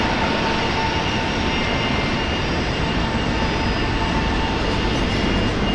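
A Rex airliner touches down at Brisbane Airport with a steady, broad roar of jet or turboprop engine and rushing air that holds at a constant level throughout, with no voices.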